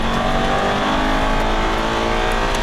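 An Aston Martin V8 Vantage accelerates hard on a Las Vegas race track, its engine roaring loud and close with a continuous rising growl and no break in the sound.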